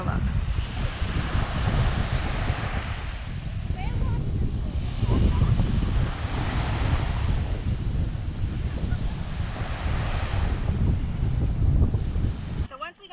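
Rough surf at a beach in St Thomas, washing in steady, broad surges that roar continuously, heavily mixed with wind buffeting the microphone.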